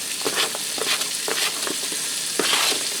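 Three stalks of sliced celery sizzle as they sauté in a pan, a close, steady frying hiss with a few stirring crackles and no talk.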